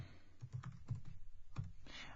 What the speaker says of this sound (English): typing faster than I was before